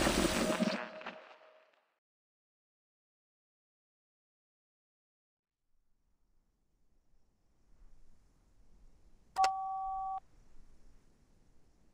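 An electronic phone tone from the Reverse: 1999 game sounds once as a short two-tone beep after a long near-silence, preceded by a brief burst of noise at the start.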